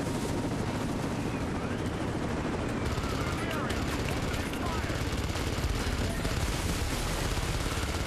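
Dense, continuous gunfire and explosive rumble from the Rise of the Tomb Raider video game, loud and sustained through the whole stretch, with a voice calling out under the noise.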